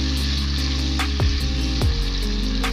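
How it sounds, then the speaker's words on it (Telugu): Ginger garlic paste sizzles loudly in a hot pan, a constant close frying hiss broken by a few scraping stirs of a spoon. "ఈ అల్లం వెల్లుల్లి పేస్ట్ పచ్చివాసన పోయే వరకు వేగించండి"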